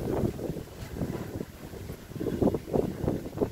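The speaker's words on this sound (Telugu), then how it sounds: "చూసారు కదా ఎంత గాలి వస్తుందో" Gusty afternoon wind in Rajahmundry buffets the microphone in uneven rumbling bursts, rising and falling with no voices.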